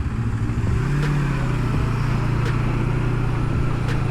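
Motorcycle ridden through busy, backed-up traffic, its engine droning steadily and close with a brief rise in pitch, road noise constant throughout and no voices.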